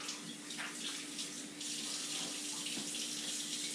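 Tap water runs steadily into a kitchen sink as hands are washed after handling brown-sugar-coated kokanee salmon fillets, a continuous close splashing hiss with no voices.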